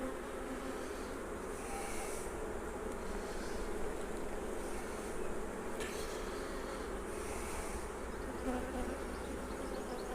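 Honeybees buzz in a steady, dense drone from an open hive in a back garden, a continuous close hum with individual bees droning past, and no talking over it.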